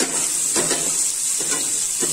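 Julienned capsicum strips sizzling as they're tossed and stirred into frying onions in a pan, a steady bright hiss with a few soft stirring scrapes and no talking.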